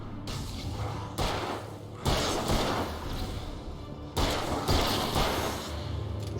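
Heavy gunshots in the video game Alan Wake as enemies are shot down: a handful of loud, booming blasts with thudding tails, spaced a second or two apart over constant game ambience, with no voices.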